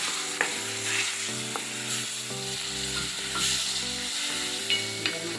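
Peas sizzle steadily in a hot pan for ragda while a utensil scrapes and stirs them in short repeated strokes, close by with no talking.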